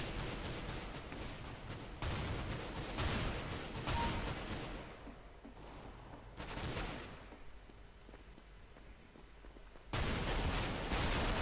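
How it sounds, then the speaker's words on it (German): Rapid volleys of shotgun fire in Counter-Strike: Global Offensive crackle in dense bursts, separated by short lulls, loud and close throughout. "Zwei Schüsse mit der Schrotflinte aus der Entfernung"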